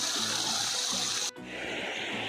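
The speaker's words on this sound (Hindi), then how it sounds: "आजकल पानी का बहाव भी थोड़ा सा तेज़ है।" Natural spring water gushing fast, a loud, dense steady rush with a brief dip partway through, then continuing strong.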